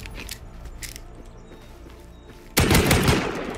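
AK rifle fire in the video game Rust, with faint sporadic shots early and then a loud close burst of gunfire starting abruptly partway through.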